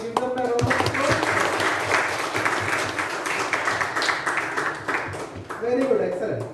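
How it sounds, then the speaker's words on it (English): An audience at a youth leadership programme claps for newly nominated youth leaders, a dense, steady round of applause lasting several seconds, with a few voices over it near the end. "Let us give them a round of applause."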